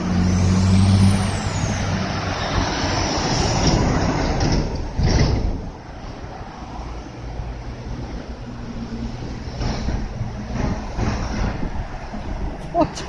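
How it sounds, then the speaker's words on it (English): Heavy trucks roll past on a road, a loud close rumble and whoosh with an air brake hiss, then the noise eases and further traffic drones on steadily. "Fortunately, the trucks are coming too."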